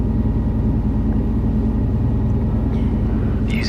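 A helicopter in Microsoft Flight Simulator 2024 flies with a steady, loud rotor and engine drone, a rhythmic low thrum of blade beats running throughout, plus a brief higher click near the end.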